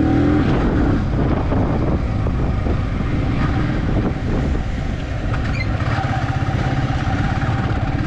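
A Yamaha R15 motorcycle engine runs throughout, a loud, steady, buzzing drone close to the microphone with heavy wind noise over it.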